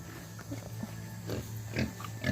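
Pigs on a small homestead farm, soft grunts and snuffles scattered through a few seconds, fairly close but low in level over a quiet background.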